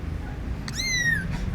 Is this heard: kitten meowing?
yes